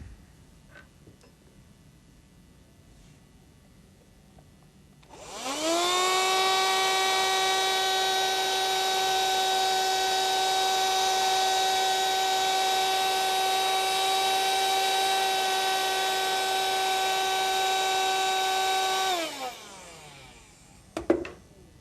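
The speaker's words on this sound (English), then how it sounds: "Now let's clean out the chips so we can inspect the seat." A vacuum cleaner whines steadily for about fourteen seconds while sucking metal chips from a steam valve seat after recutting, starting up sharply and winding down at the end.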